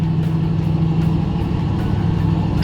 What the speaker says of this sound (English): you hit that gas and it puts you back in your seat. You know that there's a V8 in this car.